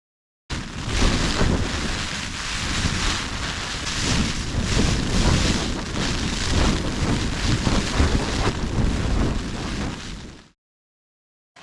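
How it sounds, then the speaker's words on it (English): Loud, blustery wind buffets and rumbles continuously with rain pattering on a Fjällräven Abisko Lite 1 tent, close and harsh against the microphone, ending abruptly. "It's been a howling and a blowing and a puffing and a gusting, and the rain's been on now"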